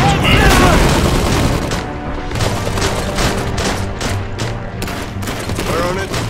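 A battle in the Iron Harvest video game, with gunfire and a heavy explosion at the start followed by rolling booms and crackling shots, loud and dense, with unit voice lines now and then.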